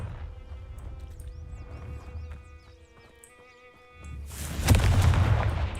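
Confringo spell cast in Hogwarts Legacy, ending in a loud fiery blast that bursts out after a quieter stretch of ambient game music, with a rumbling roar trailing on to the end.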